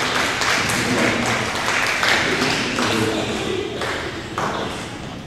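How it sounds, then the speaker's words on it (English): A high school assembly audience claps in a short, uneven round of applause, with scattered individual claps and some murmuring voices mixed in, fading toward the end. "Give a round of applause."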